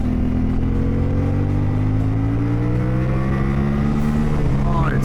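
A warmed-up Chinese 450cc adventure motorcycle engine revving loudly and steadily, its pitch climbing gradually through a long sustained run with a raspy tone, close up and without talking.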